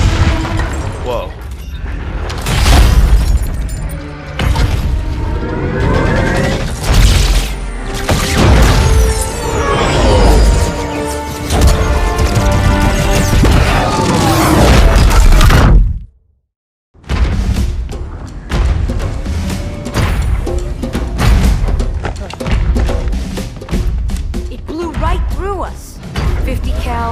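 Rocket explosions in a Halo 2 cutscene thud and boom in a dense, loud sequence among battle noise and music, with voices talking over parts of it and a brief silent gap near the end.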